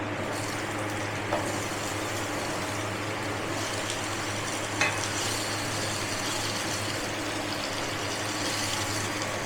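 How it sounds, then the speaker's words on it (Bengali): Raw mango pieces fry in oil with panch phoron and a dried red chilli for a chutney, sizzling in a dense, continuous hiss with an occasional light scrape of stirring, close and alone. "এবার দিয়ে দেবো আমটা।"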